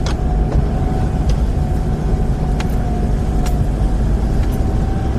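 A car engine cruising steadily without strain, heard from inside as an even, moderate low drone with road noise and a few faint clicks, and no one talking.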